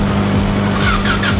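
A car engine starts up and revs hard, its loud, steady drone close by with rising and falling pitch and a faint tire-squeal-like whine on top.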